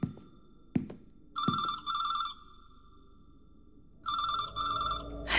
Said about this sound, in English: If I don't pick up, it'll keep on ringing.